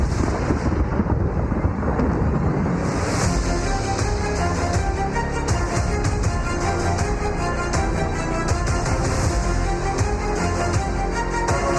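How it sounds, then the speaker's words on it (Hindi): Heavy downpour with thunder over Karachi: dense, loud, unbroken rain roar with deep rumbling thunder rolling beneath it throughout, and no voices. "कराची के मुख्तलिफ इलाकों में धुआंधार बारिश"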